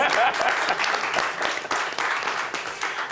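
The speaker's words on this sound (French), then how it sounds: "Applaudissez pour Jojo, s'il vous plaît." Audience applause for Jojo in a French talk-show studio, a dense burst of many hands clapping continuously for about three seconds, fairly loud with a faint voice briefly underneath.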